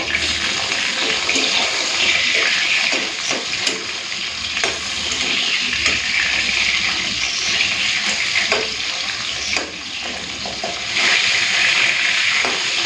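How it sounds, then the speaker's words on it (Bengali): Bhetki fish pieces, just turned over, frying in hot mustard oil: a loud, continuous sizzle with occasional spatters and a few utensil scrapes, no voices. "মাছটা একটু ভাজা হয়ে গেছে, উল্টিয়ে দিই।"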